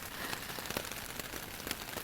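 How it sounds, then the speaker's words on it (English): Heavy thunderstorm rain falls steadily on the Appalachian Trail, a dense, even hiss of drops pattering on surfaces with no talk. "it started thunderstorm, a lot heavier rain."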